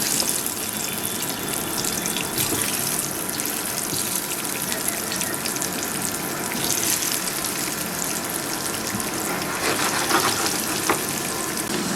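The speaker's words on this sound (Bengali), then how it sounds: "এবার এর মধ্যে আমি আলুগুলো দিয়ে দিচ্ছি। আলুগুলো দিয়ে আলুটাকে আমি খুব সুন্দরভাবে ভেজে নেব" Potatoes fry in hot oil for aloo dum, giving a steady, dense, close sizzle that hardly changes from start to finish, with no one talking.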